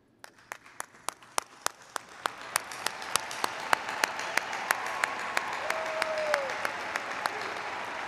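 A graduation ceremony crowd applauds, starting as sparse, distinct claps and building into steady, fuller clapping across the hall, with a few louder individual claps standing out in a regular rhythm.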